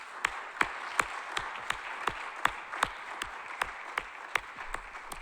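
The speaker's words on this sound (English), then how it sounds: "So I would like to ask you an applause for these members" Faint, sparse applause for association members at an informatics general assembly, with a few evenly spaced claps in a slow, steady rhythm.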